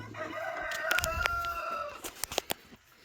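A rooster crows close by in a loud, drawn-out call with a few clucks after, in a yard during a home repair of a Mighty Mule gate opener; no talk.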